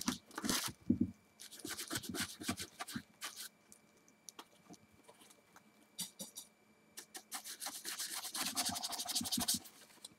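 Weathering powder being scrubbed into a painted model helmet with a brush: close, dry scratchy scrubbing in irregular bursts with short pauses, no talking.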